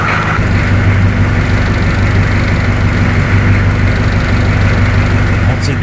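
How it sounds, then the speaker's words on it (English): A GM 6.2 diesel pickup fitted with a custom exhaust idles and rumbles steadily nearby, a deep continuous low drone that kicks in just after the start and holds throughout. "that's Lou's custom exhaust"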